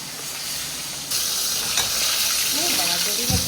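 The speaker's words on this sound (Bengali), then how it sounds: "একদিকে মাছ ভাজা হচ্ছে" Loud, close hissing sizzle of fish frying in oil, swelling stronger partway through, with faint clinks and a brief voice-like sound near the end.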